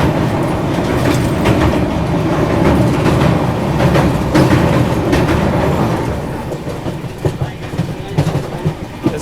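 Dibrugarh Rajdhani Express rolling over the Teesta river bridge, a loud, steady rumble with rhythmic clickety-clack of wheels on rails running close and unbroken throughout.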